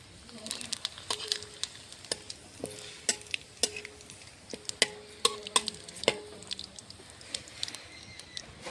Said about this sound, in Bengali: কড়াইতে একটু তেল দিয়েছি, গরম হয়ে গেছে। দিয়ে দেবো ফোড়নে একটা তেজপাতা, দুটো জিরে।